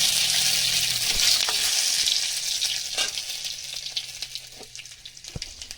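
Bay leaves fry in hot oil in a kadai for a homemade tomato pickle, giving a strong, steady sizzle that slowly softens, with a few spitting pops and light clinks, close and without talk.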